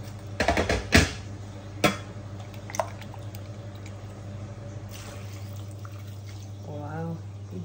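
A little water is added to a pot of crab and shrimp curry cooked with coconut milk, giving a few close splashing pours and drips at the start, then quieter sizzling and a voice briefly near the end.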